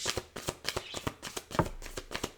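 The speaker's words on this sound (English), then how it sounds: "Let me pull three more cards" Tarot cards are drawn and handled from a deck, making a quick series of close, soft papery flicks and slides in an uneven rhythm.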